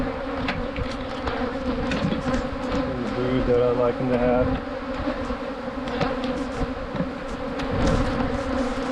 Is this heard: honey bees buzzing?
yes